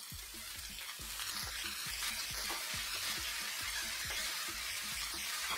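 Onions, bacon, black pepper and garlic fry in sunflower oil in a wok over high heat, giving a steady bright sizzle with irregular crackles and soft stirring knocks, close and continuous.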